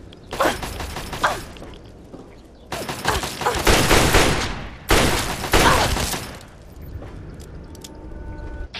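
Automated turret fire in Fallout 3, with three loud bursts of rapid gunfire separated by short pauses, close and harsh, then fading into quieter mechanical clicks and faint tones.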